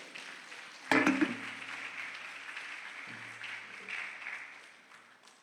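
A church congregation breaks into applause all at once, with a sharp start and then a sustained patter of clapping that slowly thins out, heard in a reverberant hall with some faint voices underneath.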